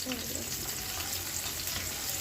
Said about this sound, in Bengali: একটি প্যানে পরিমাণ মতো খাবার তেল দিয়ে দেব। এবার দিয়ে দিলাম রসুন কুচি।